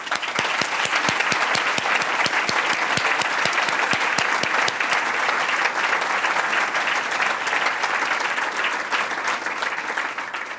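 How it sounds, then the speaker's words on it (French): An audience at a Cercle canadien de Montréal luncheon applauds steadily, a dense sustained clapping from many hands that holds at full strength for about ten seconds before easing slightly. "Alors, on pourrait prendre quelques secondes pour les applaudir."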